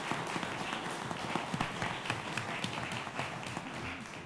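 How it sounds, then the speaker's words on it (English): Modest applause rises from the audience at a city commission candidates' debate, a steady patter of clapping hands heard from a middle distance, faint and unaccompanied by speech. "Let's have a big round of applause for all of our candidates for being here today"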